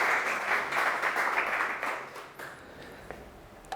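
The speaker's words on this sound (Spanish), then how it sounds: "Un aplauso y bienvenido." An audience at a testimony gathering applauds to welcome a speaker. The clapping starts full and steady, then thins out and fades away, with a few scattered claps near the end.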